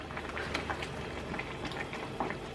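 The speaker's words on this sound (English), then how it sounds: "You can see it's boiling." A pot of potato and onion soup, with cubed potatoes, bubbles at a boil. The soft, continuous popping and gurgling is faint and close, and nobody speaks.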